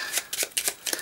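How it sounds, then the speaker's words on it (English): Playing cards shuffled by hand during a card game, with a quick series of crisp riffling bursts close up and no talk. "I should be shuffling this."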